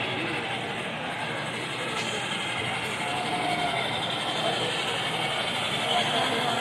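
A G scale model CSX freight train rumbles steadily along its track with a continuous mechanical whir at the Big E train show in Springfield, Massachusetts, while a noisy crowd chatters loudly throughout.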